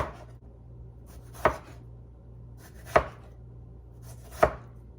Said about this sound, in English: Cut these really fresh tomatoes into some nice, thick slices.